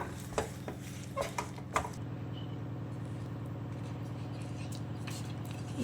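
A spoon scrapes and clinks against a pan while powdered peanuts are stirred into hot jaggery syrup, a few sharp knocks early then a steady low cooking hum, quiet and close.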